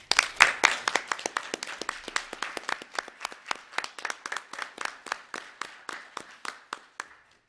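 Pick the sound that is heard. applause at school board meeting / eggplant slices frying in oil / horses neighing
applause at school board meeting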